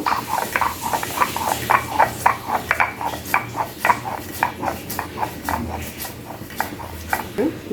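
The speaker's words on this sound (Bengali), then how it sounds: "এইভাবে অল্প অল্প জল দেব আর বেটে নেব" Prawn heads and yardlong beans are ground into a paste by hand with small splashes of water, making a steady run of close, rhythmic scraping and thudding strokes of even loudness.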